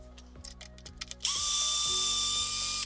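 A power driver backs out the radio box screws on an RC car, starting with several short clicking ratchet bursts and then a sustained close, whirring spin.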